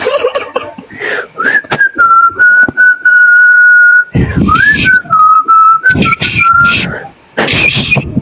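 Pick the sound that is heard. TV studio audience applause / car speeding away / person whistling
person whistling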